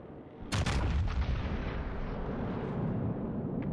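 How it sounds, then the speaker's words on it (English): A battleship's main-gun salvo fires in the World of Warships naval game: a loud, close booming blast that breaks out sharply, then rolls on as a sustained low rumble to the end, with no talking. "Look at my salvo right there."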